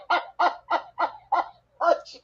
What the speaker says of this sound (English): Chickens go!